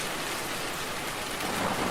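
Steady heavy rain pours in a dense, even hiss with a low rumble of thunder underneath, close and continuous with no voices.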